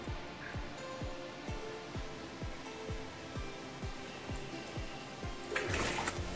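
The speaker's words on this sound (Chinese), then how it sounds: "粉肠用水龙头灌水，用手一夹，清洗干净" Tap water runs steadily while pork small intestines are filled and rinsed in a home kitchen. A rhythmic ticking runs underneath, and a brief louder gush of splashing comes near the end.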